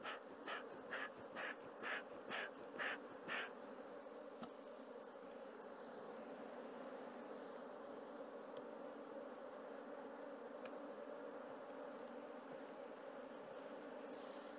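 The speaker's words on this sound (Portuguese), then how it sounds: "Enxame bem forte." A strong honeybee swarm buzzing steadily inside a hive, a dense continuous drone heard up close, with a few rhythmic breathy puffs, likely a bee smoker, at the start.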